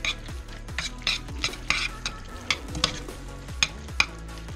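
Buffalo sauce being stirred into mac and cheese in a pot, with a spoon scraping and clinking against the metal at a steady rhythm over a soft wet squelch, close and fairly quiet.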